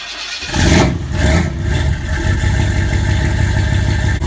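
A Mazdaspeed3-swapped RX-8 race car's engine cranks and fires up close by, catching with a loud burst before settling into a rough, steady idle that drones on alone.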